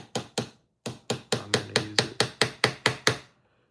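A little hammer taps an X-Acto knife blade wedged into a glued joint on an air engine's trapezium connecting rod: two quick strikes, a pause, then a steady run of about ten sharp, close metallic taps.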